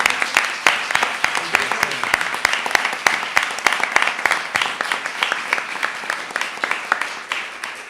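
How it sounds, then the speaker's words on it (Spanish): Audience applause for a panel discussion at a talk event, a dense steady clatter of many hands clapping for several seconds with sharp individual claps standing out, no voices over it. "un aplauso para esta mesa"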